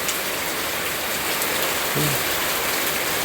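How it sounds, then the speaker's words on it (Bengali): Heavy, nonstop rain driven by strong wind at Mayapur during the rainy season, a steady dense hiss of downpour filling the whole stretch, with a brief low rumble near the middle. "প্রচণ্ড বৃষ্টি, প্রচণ্ড বৈরী হাওয়া, এবং কি একটানা বৃষ্টি হচ্ছে ননস্টপ।"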